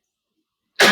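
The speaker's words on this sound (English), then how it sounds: "No, it was a cough." A single short cough bursts out abruptly at the very end after near silence, close to the microphone during an online conversation.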